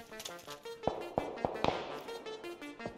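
Several sharp gunshots from PUBG, spaced irregularly over a few seconds, standing out as loud distinct cracks over a humming game background.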